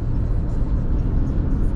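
A big truck passes on a road heading into downtown Phoenix, Arizona, a steady, loud low rumble of engine and tyre noise that holds throughout without any talk.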